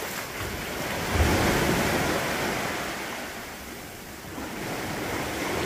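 Small waves wash onto a tiny beach inside a sea cave, making a steady soft roar of surf with a gentle swell and some wind-like rumble.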